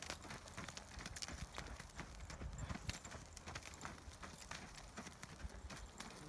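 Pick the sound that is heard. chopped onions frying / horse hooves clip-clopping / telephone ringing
horse hooves clip-clopping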